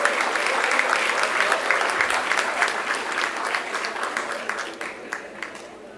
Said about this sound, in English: Can we have a huge round of applause for the toppers of BBA batch